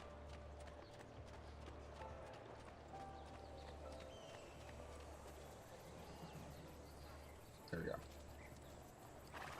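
In Assassin's Creed 2, a horse gallops in a steady rhythmic clip-clop that runs under a man's speech and game music, with a brief louder burst near the end.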